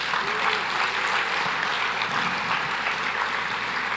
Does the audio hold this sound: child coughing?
no